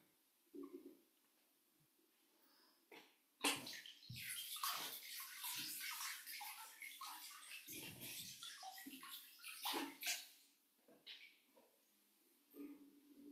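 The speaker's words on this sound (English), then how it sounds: "So we can go ahead and rinse our feet off now into the foot soak bowl and dispose of the water." Water is tipped out of a foot soak bowl in a quiet indoor room, with faint uneven splashes and trickling pours coming in short bursts between soft pauses.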